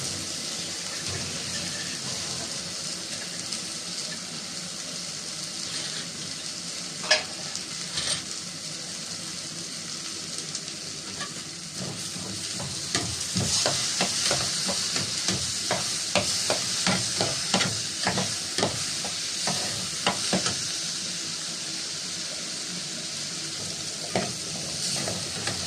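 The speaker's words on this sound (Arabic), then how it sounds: "هنقلب الرز كويس في الزبدة لحد تمام كده" Rice being stirred and fried in butter in a pan: a steady, close sizzle with repeated scraping and stirring clicks that grow busier partway through.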